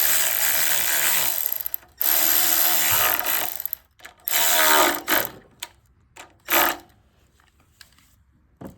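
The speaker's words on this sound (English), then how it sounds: "I'm using my Milwaukee angle." A Milwaukee angle power ratchet tightens carburetor bolts on a power washer, giving several close whirring bursts: long runs at first, then shorter clicking spurts with pauses between them.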